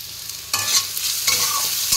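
Dry red chillies crackle in hot oil, a bright sizzle that jumps in loudly after a quiet moment and keeps hissing with a second surge, close and without talk.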